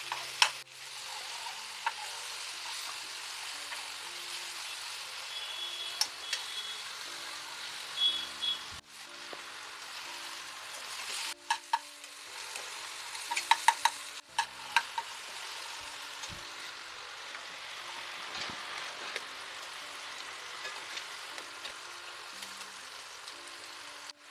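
Eggs fry in a pan on a gas stove, giving a soft, steady sizzle broken now and then by light clinks and stirring sounds.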